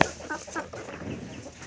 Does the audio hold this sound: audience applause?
no